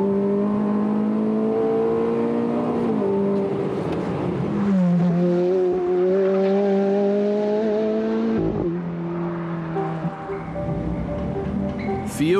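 A Ferrari F430 with its V8 engine laps the Fiorano test track, a loud, close, sustained engine howl that climbs in pitch through each gear, then drops sharply at several quick upshifts, with no talk.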